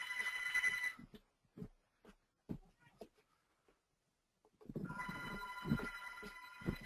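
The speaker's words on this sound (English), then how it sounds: "All the phones start ringing" Several telephones ring together in an office room, a steady electronic trill for about a second, then a pause with scattered soft knocks, before the ringing returns loud and continuous.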